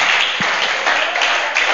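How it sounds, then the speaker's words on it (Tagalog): A church congregation bursts into dense, steady applause, many hands clapping loudly together in a continuous wash with no talk over it. "Palakpak sa Panginoon."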